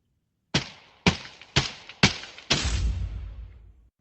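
Flame 12 shotgun firing in the video game Contractors Showdown Exfilzone: five sharp, punchy blasts at roughly half-second intervals, the last one booming with a longer decaying rumble, close and with no talking.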